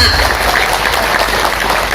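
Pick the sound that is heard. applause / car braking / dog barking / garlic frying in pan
applause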